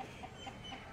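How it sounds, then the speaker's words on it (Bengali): A free-roaming chicken clucking in a garden with flowers, as short, faint, soft clucks over quiet background noise. "একটা মুরগি, কত মুরগি"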